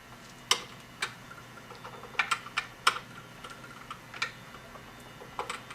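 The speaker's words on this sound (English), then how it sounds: "use our small flathead screwdriver to tighten the screw terminals down" A small flathead screwdriver tightens the screw terminals of a solar charge controller, making a scattered series of sharp, faint clicks and ticks at close range with no talking.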